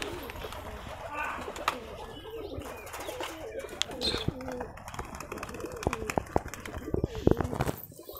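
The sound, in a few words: pigeons cooing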